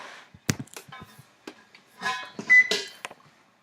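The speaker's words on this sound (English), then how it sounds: "we are going to turn the oven to 350 degrees" A kitchen oven's control panel is set to 350 degrees. A brief electronic beep sounds among scattered clicks and taps of button presses and light kitchen handling.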